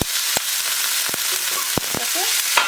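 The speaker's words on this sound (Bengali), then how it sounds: "একটু জল দিয়ে আমি চামচ দিয়েই নেড়ে নিচ্ছি" A spoon stirs spices with a splash of water in a hot pan, giving a steady sizzle broken by several sharp scraping clicks against the pan.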